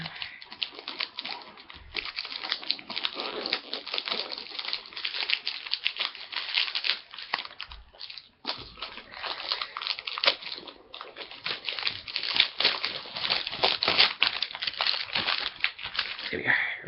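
Plastic wrap being peeled and torn off a Doctor Who DVD box set, a close, continuous crinkling and crackling that runs steadily with brief pauses and no talk.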